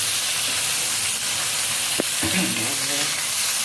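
Fish fries in a pan while being stirred, giving a loud, continuous sizzle with a few sharp clacks of the spatula and a brief murmur of voices in the background.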